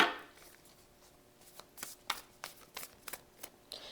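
Tarot cards being shuffled close up, a series of crisp riffling snaps and slaps in an irregular rhythm, with no talking.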